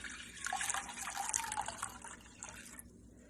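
Running water pours steadily into a pan in a home kitchen for about three seconds, a soft, quiet splashing stream that tapers off at the end.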